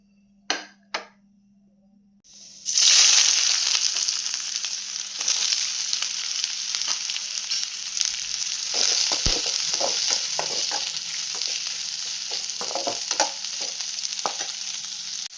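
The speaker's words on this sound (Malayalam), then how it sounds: "ചെറുതായിട്ട് മുറിച്ച് വെച്ചിരിക്കുന്ന സവോള ഒന്ന് സൺഫ്ലവർ ഓയിലൊന്ന് ഒന്ന് വറുത്തെടുക്കാം" Chopped onions hit hot sunflower oil for South Indian chicken chukka, a loud steady sizzle starting after two quiet taps and continuing with scattered stirring clicks, close and alone.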